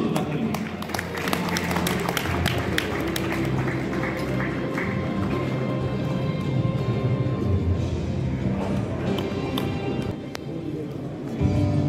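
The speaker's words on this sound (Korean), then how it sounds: "네, 큰 박수 부탁드립니다." An audience applauding at a ceremony for a high school's centennial history book launch and year-end evening, with sustained dense clapping filling the room and voices mixed in underneath.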